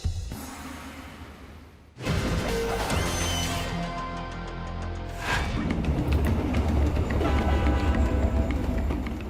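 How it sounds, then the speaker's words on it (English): A heavy diesel-electric locomotive rumbles loudly and steadily with broad mechanical noise, after a sudden jump from a quieter start, the roar persisting close by with some metallic clanks. "The diesel-electric locomotive is a workhorse and power plant all in one."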